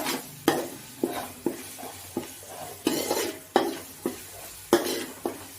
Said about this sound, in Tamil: இப்போ பார்த்தீங்கன்னா இஞ்சி பூண்டு நல்லா வதங்கிச்சு